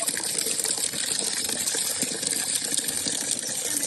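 Water gushes up in a steady, loud rush with splashing that spreads across the whole clip and no clear voices.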